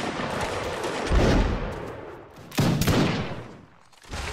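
Musket volleys crack out in the Napoleonic Wars mod of Mount & Blade: Warband, two loud ragged fusillades of many shots about a second and a half apart, followed by another burst starting at the end, with no talking.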